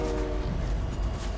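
A train in the Fortnite video game, a sustained rumbling roll with a steady tonal horn blast layered over it, loud and close.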